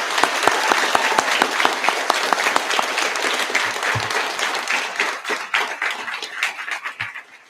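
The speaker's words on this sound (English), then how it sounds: "So can we give Ms. Kersey a round of applause?" A school audience at a sixth-grade recognition ceremony applauds a retiring counselor, dense clapping that stays strong and then thins out toward the end, with a few isolated claps.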